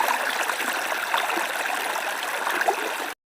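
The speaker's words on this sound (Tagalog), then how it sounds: "Lumakas yung alon dito." Strong sea waves wash and churn steadily at a beach in Calatagan, a dense continuous rush of water that stays loud and even throughout, with no voices, then cuts off abruptly near the end.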